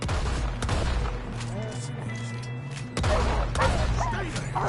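Gunfire from a Red Dead Redemption 2 shootout, with repeated sharp shots at about 0.6, 3 and 4 seconds over a dense, noisy din of action, likely including voices, loud throughout.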